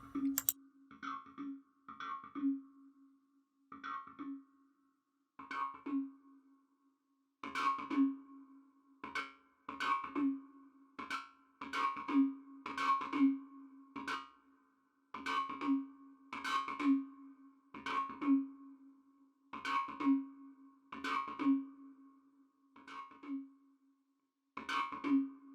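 Synth notes run through a distortion or overdrive insert effect, a string of short gritty plucked tones in an irregular rhythm with brief gaps, fairly quiet and alone with no voices.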